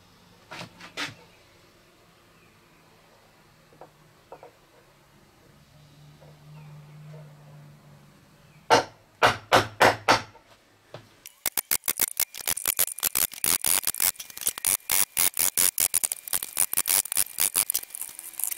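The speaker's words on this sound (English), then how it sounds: "I got to chisel out a little of this corner." A chisel cuts out the corner of a wooden spoon display case in sharp, rhythmic taps: a few isolated knocks, then a quick cluster, then a long rapid run of crisp strikes, close in a quiet room.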